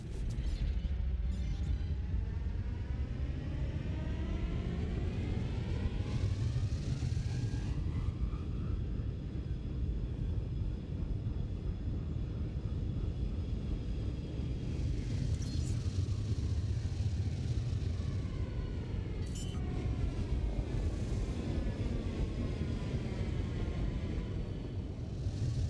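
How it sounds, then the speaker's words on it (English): A spaceship in Elite Dangerous docks and deploys its landing gear under a steady, loud engine rumble and hum that runs without a break, with faint whooshing sweeps and a few soft mechanical clunks over it. "Landing gear deployed."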